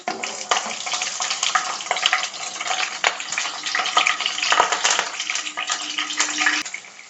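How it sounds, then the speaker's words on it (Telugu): Green chilli slits sizzle in hot oil for orange pulihora, a dense continuous crackling fry that holds steady and loud throughout. "ఇవి తీసుకున్నాక ఈ ఆయిల్లోకి మొత్తగా ఈ పచ్చిమిరపకాయ చీలికలు"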